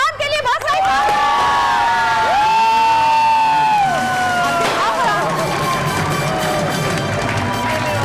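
An audience cheers, whoops and claps for the winner of a makeup artist contest on a television show, a loud crowd roar with shouting voices over it.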